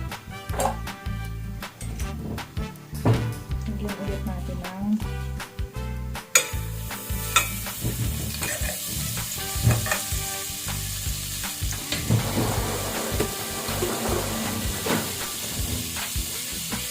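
Adobo sizzles and hisses steadily as it is sautéed in a hot pan, with a utensil scraping and clanking against the metal throughout.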